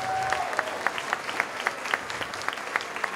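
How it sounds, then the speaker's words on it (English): School winter concert audience giving a round of applause for the elementary piano club, a fairly faint wash of clapping with individual claps standing out rhythmically, lasting a few seconds. "How about another round of applause for our piano club members?"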